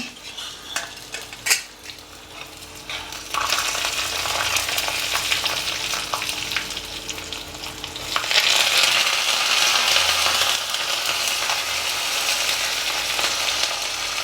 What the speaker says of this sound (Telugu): టపటప అంటాయండి అన్నప్పుడు మనం కరేపాకు వేసుకుందాం